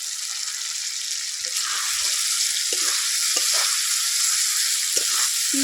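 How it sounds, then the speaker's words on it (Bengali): Prawns tipped into a spice paste frying in oil for a prawn bhuna give a steady, loud broadband sizzle throughout, with scattered stirring scrapes and a few light knocks. "মশলাটা আমার তেল ছেড়ে দিয়েছে এখন আমি দিয়ে দেবো চিনি মাছ"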